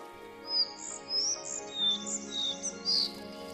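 A collared flycatcher sings in an older deciduous forest, a series of thin high chirps and whistled phrases repeating every half second or so over a low, steady background hum.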